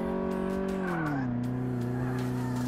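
Ford Sierra, a rear-wheel-drive car in Car Mechanic Simulator 2018, driving with a steady engine drone whose pitch drops midway, alongside a brief squeal of tires skidding; no voices.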